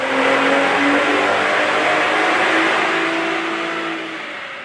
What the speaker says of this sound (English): This Flowmaster Outlaw exhaust system is perfect for the person looking for an aggressive exterior and interior exhaust tone